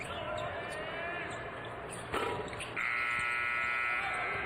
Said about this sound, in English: the shot clock buzzer went when the ball hit the rim